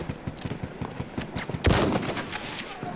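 Hostile machine gun fire in a video game battle, a fast rhythmic string of close shots followed by a louder burst or blast and continued firing.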